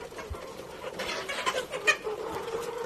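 Australorp chickens about three months old cluck intermittently at a farm, soft and moderately close, with brief louder calls rising over a steady background hum.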